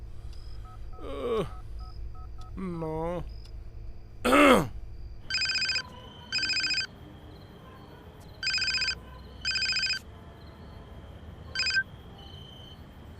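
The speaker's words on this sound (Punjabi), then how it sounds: "ਲੱਗਦਾ ਫੋਨ ਹੀ ਕਰਨਾ ਪੈਣਾ" Telephone in a Punjabi comedy film: a few brief ringing bursts with a short gasp, then a series of evenly spaced dial tones pulsing on and off, close and clear, with one brief spoken word.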